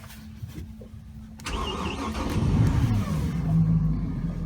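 A boat engine, fitted with steer assist, cranks briefly and fires up, settling into a low rumbling idle that grows slightly louder and stays steady.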